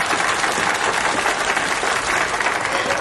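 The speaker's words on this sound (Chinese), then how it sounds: "大家掌声欢迎" An audience at a competition gives steady, loud applause for the first-place winner, a dense continuous patter of clapping lasting about three seconds.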